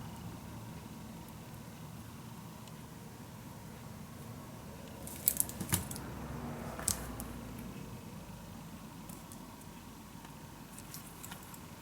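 Scissors snip paper for a Stamperia Savana mini album made with envelopes, a few quiet close cuts around the middle against a faint steady background, with no voices.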